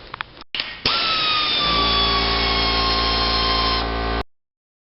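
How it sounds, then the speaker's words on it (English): Air tools work loose the exhaust manifold nuts on a 22RE engine: a couple of short bursts, then one sustained loud pneumatic whine lasting about three seconds that stops sharply, with silence after. "So I'm gonna use air tools."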